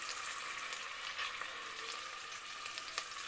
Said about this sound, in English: let's put this so we can hear some sizzle